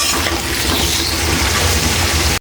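Fish and eggplant curry with turmeric and salt being stirred in a pan, a continuous sizzle and scrape of frying with a sharp clatter at the very end, no talk.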